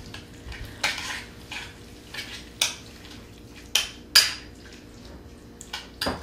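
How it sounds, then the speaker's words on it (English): A shrimp mixture stirred in a bowl with a utensil, giving a wet, squelching mix broken by sharp clinks against the bowl at irregular intervals, close and fairly quiet, no speech. "And continue to mix this and stir this up."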